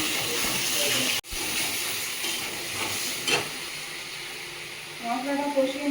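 Spice paste sizzles and hisses steadily in a pan as it is sautéed with sour yogurt for a fish curry, with a brief dropout near the start and a few louder crackles toward the end.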